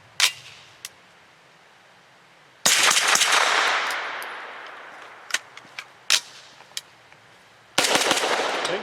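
Grand Power Stribog firing Federal 124 grain Syntech training match ammunition: loud, sharp gunshots, some single and some in quick pairs, with one long ringing echo and a final blast, heard close and alone.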